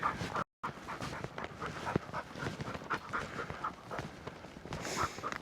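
A spaniel pulling on its lead up a hill pants hard and rhythmically close by, with soft footsteps and a brief whimper mixed in.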